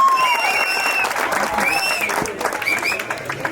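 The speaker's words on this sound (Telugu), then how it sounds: "సార్ లేచి హర్షధ్వానాలు వ్యక్తపరచవలసింది కోరుతున్నాం సార్." Audience applause at a Sri Vijayalaxmi Durga Private Limited gathering rolls on for a few seconds, a steady wash of many hands with a few voices and whistle-like tones over it.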